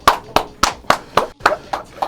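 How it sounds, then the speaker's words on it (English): Eight evenly spaced sharp hand claps ring out close and crisp in a quick steady rhythm, with no crowd behind them. "Can we give Xoboi a round of applause real quick?"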